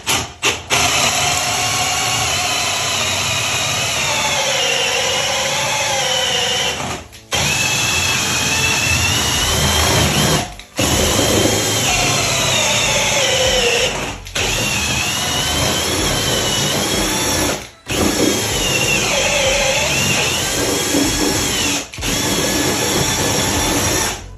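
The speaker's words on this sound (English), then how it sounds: "now I'm gonna drill a hole at an angle so that I can snake from my box into the attic" A power drill whines loudly and continuously, bogging and rising in pitch as it bores an angled hole through a wall toward the attic, with a few brief pauses between bursts.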